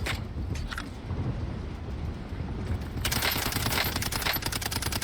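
Rapid automatic gunfire bursts in the Warzone video game, a dense rattling fusillade that grows heavier in the latter half, heard at moderate level without talk.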